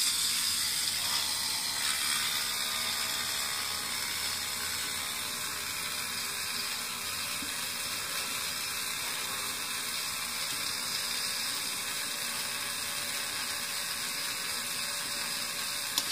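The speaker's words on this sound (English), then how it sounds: "I'm going to go ahead and Dremel tool some of the scar tissue so it'd be easier to do the push-ups" A Dremel rotary tool grinds steadily on hand scar tissue, producing a continuous high whine with a faint mechanical rattle that stays even and close for the whole stretch, with no talking.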